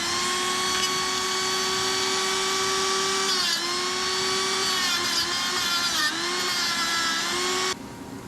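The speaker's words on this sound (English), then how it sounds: "Now all I got to do is take my Dremel tool, grind this off just a little bit." A Dremel rotary tool grinds a metal hinge pin from a tonneau cover hinge with a high, steady whine. The pitch dips briefly a few times as the tool bites into the metal, then it cuts off near the end.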